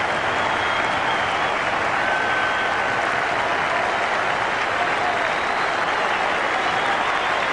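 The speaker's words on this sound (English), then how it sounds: "Brett Lee certainly enjoyed it just as much as the crowd at Melbourne Cricket Ground right here today." A large cricket crowd at the Melbourne Cricket Ground applauds and cheers a wicket in a Test match. The clapping is loud and dense and holds steady, with no break, through the whole stretch.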